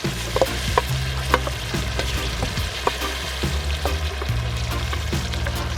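Ackee and saltfish stirred in a cooking pot by a grandmother, with scraping spoon knocks and a steady frying sizzle throughout, no talking.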